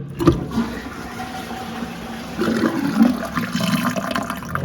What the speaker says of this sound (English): Let's see if it will be flush.